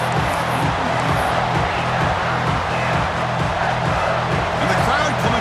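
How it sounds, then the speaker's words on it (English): A football stadium crowd gives off a steady, loud, even roar of cheering that fills the whole stretch, and a commentator talks over it. "And the crowd coming to life here"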